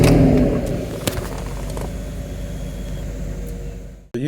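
A Toro Wheel Horse riding lawnmower engine rumbles steadily as it drives, a low continuous drone heard close up that cuts off abruptly near the end.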